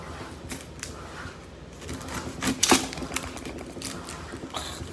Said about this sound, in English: Gonna take my onion. Cut it in half.